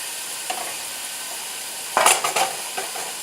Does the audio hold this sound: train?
no